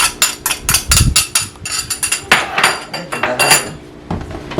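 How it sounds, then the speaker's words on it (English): Lemon zest being mixed into cake batter for a black cake, with a utensil scraping and clinking against the bowl in a quick, irregular run of loud, close knocks and taps that never stop. "Give that a little mixing"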